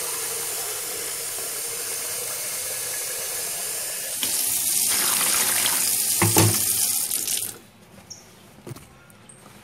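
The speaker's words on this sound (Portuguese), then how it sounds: "Vamos mergulhar o pano de prato." Dish towel plunged into water mixed with powdered soap, heard as a steady watery rush and sloshing that swells in the middle, then drops away to a few faint drips and small splashes.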